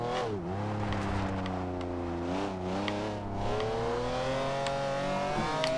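A 1997 McLaren F1 GT engine revving in the Forza Horizon 2 racing game, a loud steady high-pitched drone that climbs and dips with gear changes, brief tire squeal and wheel spin, with no talking.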